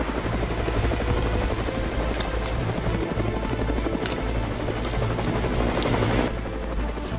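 A helicopter roars steadily close overhead, its loud, continuous rotor drone and whine holding throughout with no talk over it.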